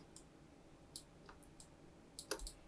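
Faint, sharp computer mouse clicks while working in graphics software, single taps spread irregularly with a quick cluster near the end, close and quiet over a low room hum.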